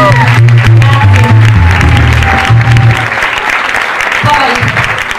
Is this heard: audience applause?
yes